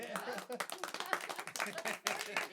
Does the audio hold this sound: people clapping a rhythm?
yes